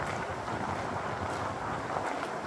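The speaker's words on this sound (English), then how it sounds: "Sorry for all the wind." Wind buffets the microphone outdoors at a historic corporate campus, a continuous loud rumbling roar with no pauses and no talk.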